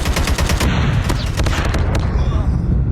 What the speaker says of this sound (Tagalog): Grabe namang baril yan.